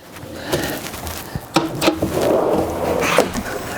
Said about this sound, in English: Slide drawer right here.